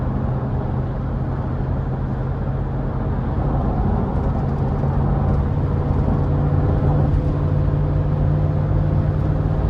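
A 2009 GMC Yukon Denali with the 6.2 V8 accelerating, heard from inside the cabin as a constant loud engine drone with a low steady hum and road rush, without speech.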